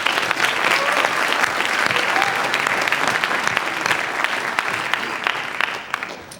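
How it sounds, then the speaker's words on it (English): Sustained applause from an audience at a high school scholarship awards night, dense and even clapping from a large seated crowd that holds steady and then begins to thin toward the end. "So if we could give them a round of applause."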